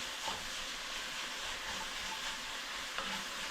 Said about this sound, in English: Alright, mix all together.